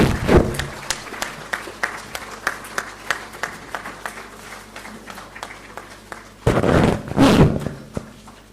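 Audience applause marks a brochure launch at the 7th National Photography Awards ceremony in 2019: scattered claps and thuds build into a louder, denser burst of clapping near the end.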